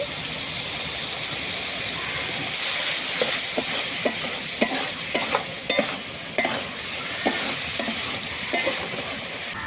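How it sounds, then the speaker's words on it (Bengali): Masala for kalai greens with small shrimp sizzling in a pan after a splash of water and a little sugar, a dense steady hiss with repeated quick stirring scrapes in the middle, close up and with no talking. "মশলা খুব সুন্দরভাবে কষানো হয়ে গেছে এবার দিয়ে দেবো অল্প একটু চিনি"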